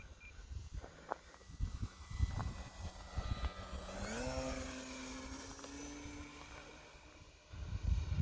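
E-flite Night Timber X RC plane making a low, slow pass with flaps down, its electric motor buzz swelling and rising in pitch as it nears, then holding a steady drone before fading, with wind noise around.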